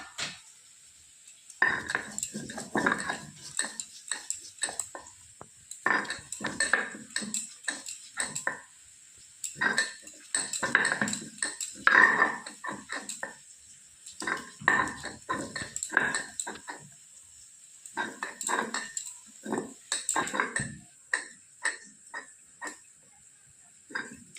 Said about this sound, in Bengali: কাঁঠালের দানাগুলো বেটে নেব।